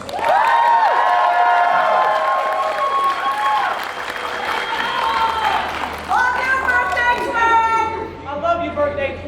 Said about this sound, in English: Please give a round of applause for Cattle Dog